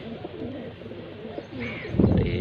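Amritsari pigeons coo in low, throaty bursts close by, the loudest swell arriving near the end over a soft background hum.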